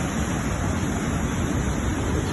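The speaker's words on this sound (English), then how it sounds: "this is a view of that same waterfall from up above on a bridge crossing over this ravine" A waterfall pours through a rocky ravine below a bridge, its steady broadband rush continuous and fairly loud, like dense surf or wind noise, with no break across the short stretch.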